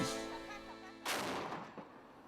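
A cannon that fires daily at noon booms once, a sudden loud blast about a second in that cuts through a sustained tonal background and then rolls off into a fading echo.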